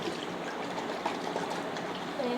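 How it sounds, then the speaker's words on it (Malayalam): Water runs while a cup is rinsed, a soft, steady trickling stream with light splashes, fairly quiet and close, with no voices. "ഒന്ന് കഴുകാം ഗൈസ്"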